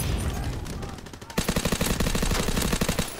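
A Waffe 28 automatic weapon in the video game Call of Duty: WWII fires rapid, evenly spaced shots in a loud sustained burst, following a brief earlier flurry of gunfire.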